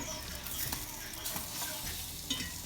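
A salmon fillet fries in avocado oil in a pan, giving a dense, continuous hiss and crackle up close, with a few brief clicks and scrapes.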